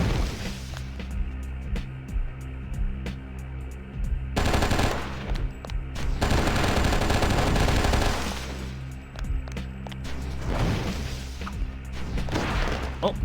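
Rapid automatic gunfire in the video game Oni, loud and dense, with sustained bursts and heavy impacts that rise and fall across the whole stretch.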